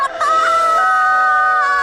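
A person imitates a rooster crowing with one long, loud, sustained call that wavers in pitch and sounds close to the listener.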